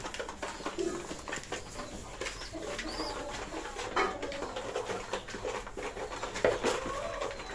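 Pigeons coo softly and repeatedly at a small farm, low throaty calls close by, with faint rustling between them as they gather nesting straw.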